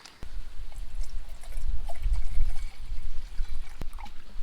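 Water pouring into a Jetboil or Toaks camping cook pot, a steady trickling stream that swells in the middle, with a brief knock near the end.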